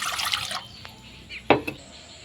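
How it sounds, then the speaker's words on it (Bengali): Water poured into a metal bowl, a short splashing trickle that stops, then a couple of clinks and a brief slosh, close and fairly quiet. "গামলার মধ্যে একটু জল নিয়ে নিচ্ছি"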